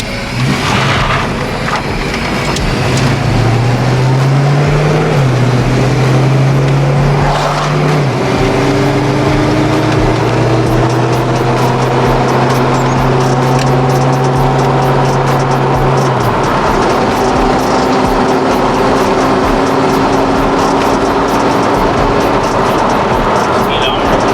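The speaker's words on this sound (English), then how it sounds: "let's just accelerate slowly. Let's hear the transmission change and everything." New race car accelerating slowly from inside the cabin, engine note climbing and dropping as the transmission shifts through gears, a loud sustained drone with people talking over it.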